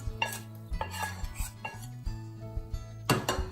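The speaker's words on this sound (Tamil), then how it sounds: "இப்போ இது எல்லாத்தையும் நல்லா மிக்ஸ் பண்ணி விட்டுட்டு உப்பு காரம் பார்த்து மூடி வைக்கணும்" Lemon rice stirred together with its tempering in a metal vessel, heard as repeated close scraping and clanking of a spoon against the pot in an uneven rhythm, with no talk.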